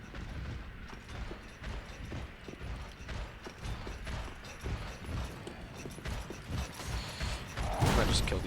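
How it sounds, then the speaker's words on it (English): Elevator moving in the video game Dark Souls 3, a steady mechanical creaking and rumbling grind with faint clanking, running continuously and rising slightly louder near the end. "That elevator's already moving as we come in"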